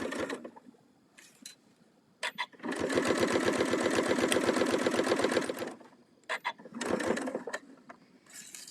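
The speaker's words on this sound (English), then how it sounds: "Okay, so I'm just going to sew this down." Sewing machine stitching down a quilt-as-you-go seam with a quarter-inch seam allowance: a steady, close, rapid stitching run of about three seconds, set between short isolated bursts and brief pauses, with no talking.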